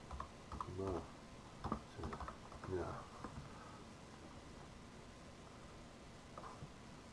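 Computer keyboard keys clatter in short bursts as program values are entered in Pascal, soft close taps clustered in the first few seconds, then mostly quiet room noise.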